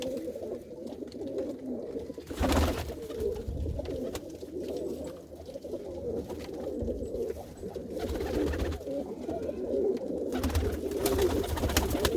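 Pigeons at a rooftop loft, including a Makhiala pair with a hen sitting on eggs, keep up a continuous low rolling coo, with a short burst of flapping or rustling near the start and again later, and no voices.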